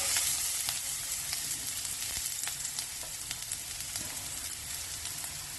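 Chopped onion, garlic and green chilli sizzle in hot oil in a pan for a Mexican-style burrito rice bowl. The frying is a steady, fairly quiet hiss, broken by scattered sharp crackles and pops, and no one speaks.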